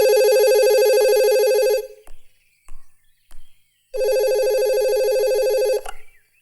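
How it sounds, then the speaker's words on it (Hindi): A telephone bell rings in two long, bright electronic bursts separated by about two seconds of near silence, with only faint clicks in between. "कितनी देर से घंटी बज रही है, कोई उठाता क्यों नहीं?"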